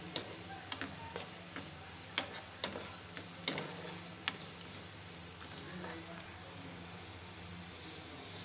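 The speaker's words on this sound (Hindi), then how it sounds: "मैंने इन सारे मसालों को 4 मिनट के लिए फ्राई किया है।" Spices fry in a pan with a continuous soft sizzle, punctuated by light, irregular scraping and tapping stirs, fairly quiet and close, with no talking.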